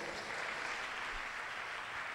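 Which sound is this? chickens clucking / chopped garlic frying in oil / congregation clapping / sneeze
congregation clapping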